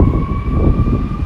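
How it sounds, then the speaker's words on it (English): An emergency vehicle siren going by outdoors on a windy day, a steady wail held under heavy, loud wind rumble for a brief moment. "siren going by"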